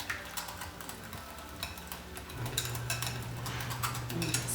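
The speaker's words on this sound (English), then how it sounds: "I'm going to take my whisk and mix those ingredients together" A whisk mixing tuna egg salad ingredients in a bowl, quick light clicking and tapping against the bowl in an irregular rhythm, close and fairly quiet.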